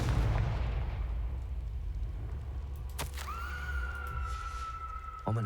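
Confringo blasting spell in Hogwarts Legacy bursting with a sharp explosive crack, followed by a high ringing magical tone that sustains and fades, over a low rumbling ambient bed.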